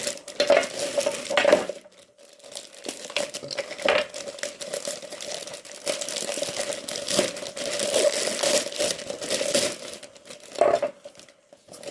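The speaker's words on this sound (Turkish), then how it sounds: "Bugün gel elektroşok böyle bir kargo paketin içinde. Şimdi açalım bakalım." A cardboard shipping parcel holding a stun gun is torn and unwrapped up close, with repeated crinkling, rustling and scraping bursts and a steady tone running underneath throughout.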